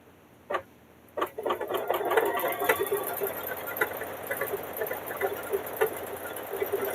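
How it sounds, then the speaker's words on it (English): Sewing machine backstitching a few stitches on a quilt: two short whirring starts, then a steady close mechanical stitching rattle running for several seconds. "So we're just going to back it up a few stitches."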